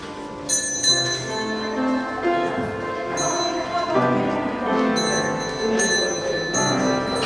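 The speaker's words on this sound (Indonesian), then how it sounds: "Masuk pembawa lonceng Gilbert Siregar dan juga Elisa Tambunan." Bells rung by bell bearers entering a wedding procession, bright overlapping metallic rings with sustained tones that start and stop in bursts, fairly loud against a busy background murmur of voices.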